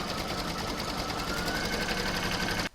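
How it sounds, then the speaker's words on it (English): An embroidery sewing machine stitches an in-the-hoop oven mitt, a steady, loud continuous whirring hum with rapid needle rhythm that runs without pause and cuts off abruptly just before the end. "I'm going to pop that back in my machine and stitch round number 7 to secure it."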